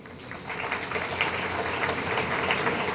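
Students applaud in a college auditorium, a dense, steady clapping from a full crowd that stays loud and even throughout with no voices over it.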